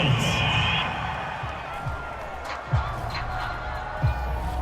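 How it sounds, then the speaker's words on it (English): Football stadium home crowd roaring in approval of a penalty flag on third down, a broad sustained cheer with scattered whoops and claps in the distance beneath commentators talking. "This home crowd, they're happy with that call."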